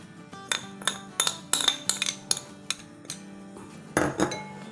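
A spoon mixes pakora batter with chillies and green coriander in a bowl, making a series of close, bright clinks and taps against the bowl with short pauses between them, with no talking.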